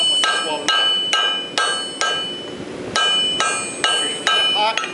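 A hammer strikes hot steel on an anvil while a wire blade is forge welded, ringing metallic blows at an irregular, roughly half-second pace, each with a bright lingering ring, loud and close with no talk.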